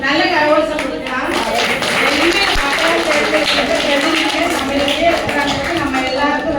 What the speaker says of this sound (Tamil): நல்ல கரகோஷம் கொடுக்கலாம்.